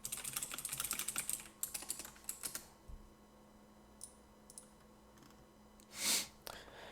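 Computer keyboard typing while writing Go code, a quick burst of keystrokes early on, then scattered taps with a short sniff or breath near the end, close and fairly quiet.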